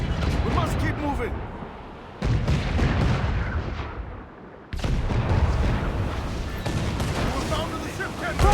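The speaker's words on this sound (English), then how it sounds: "Mortar incoming!" Mortar and artillery fire in the pirate naval game Assassin's Creed IV: Black Flag, heavy booming blasts and rumbling explosions that come in loud bursts with brief dips between them, while voices shout over the barrage.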